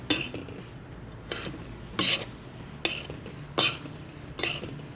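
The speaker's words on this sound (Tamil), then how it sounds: "கொட்டி இவங்க எல்லாரையும் ஒன்றா மிக்ஸ் பண்ணுங்க." Roasted jowar, chiwda, masala and dry fruits are tossed together in a bowl, producing a series of about six dry rustling, crunching bursts at steady intervals, close and alone.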